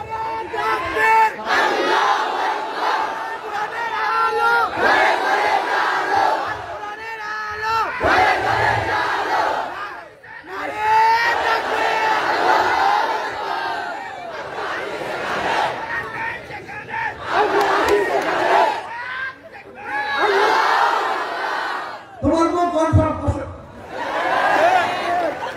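Large crowd at an Islamic tafsir mahfil roaring takbir chants in loud, repeated massed shouts with brief pauses between bursts.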